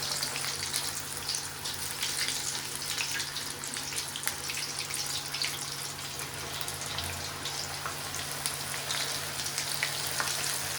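Chicken pieces frying KFC-style in hot oil over a low flame, giving a steady, dense sizzle and crackle that holds evenly throughout without any talking.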